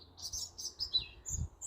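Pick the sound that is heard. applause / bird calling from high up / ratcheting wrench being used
bird calling from high up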